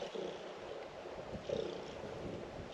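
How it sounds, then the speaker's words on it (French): A cat named Caramel purrs softly up close, a faint low rumbling drone over gentle outdoor wind. "Oh, tu ronronnes."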